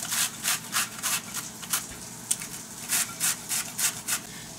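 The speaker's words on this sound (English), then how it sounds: "I'm actually just going to grate the cauliflower." Raw cauliflower rubbed against a cheese grater to make low-carb fried rice, heard as steady rhythmic rasping strokes about twice a second, close and clear with no voices.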